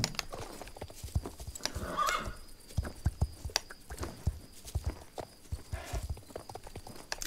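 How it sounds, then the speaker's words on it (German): Horse hooves clip-clop at a trot in the video game Star Stable Online, in an uneven rhythm, fairly quiet, with a brief whinny partway through. "Aber das Pferd läuft wenigstens mal ein bisschen schneller."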